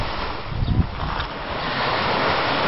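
Sea waves wash against the shore in Bicol, with a close, rushing surge heavily buffeted by wind against the microphone. A brief burst comes early, then an even roar.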